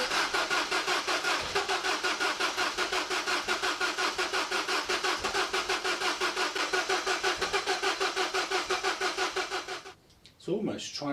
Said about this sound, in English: It's almost trying to start with no fuel.